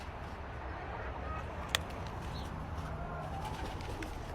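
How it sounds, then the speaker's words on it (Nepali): Pigeons coo softly in a low, repeating rumble on a farm in Cyprus, with a sharp click partway through and faint background talk. "परेवाहरू पनि हुनुहुँदो रहेछ यहाँ माथि त"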